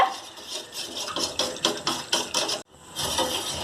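A spoon scrapes quickly and repeatedly against a pan while chocolate custard pudding is stirred. About ten rhythmic strokes run close up, break off in a brief pause, then resume as steady scraping, with no voices.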